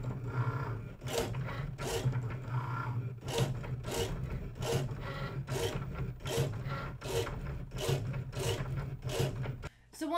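A Cricut cutting machine runs a foil transfer pass, giving a steady mechanical hum under repeated rasping, rubbing strokes as the carriage moves back and forth, close and fairly loud, without talk.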